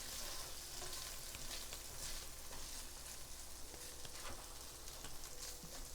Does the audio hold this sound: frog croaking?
no